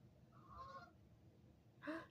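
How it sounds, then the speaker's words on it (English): A goose honks as it flies over outdoors, giving two short bursts of calls, the first moderate and the second louder and nearer, over a low background rumble. "Did you hear the goose flying over?"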